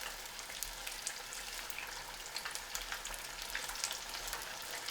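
Beer-battered catfish fillets frying in a pot of hot oil, a steady soft crackle and hiss with scattered pops, fairly quiet and continuous with no voices.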